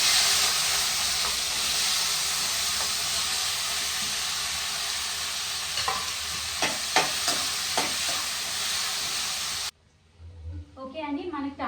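Tomatoes hit a hot pan with fried brinjal for a brinjal-tomato pickle, giving a steady loud sizzle and hiss with a few stirring clinks. The sizzle cuts off abruptly near the end into a quieter stretch, and a voice talks over it.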